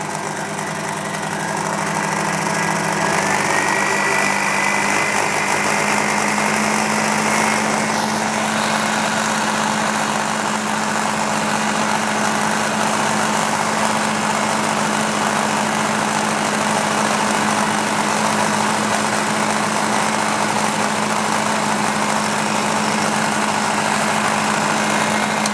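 A milling machine spot drills metal for a small finger engine project, giving a loud, steady mechanical drone with a constant hum that runs unbroken for the whole stretch.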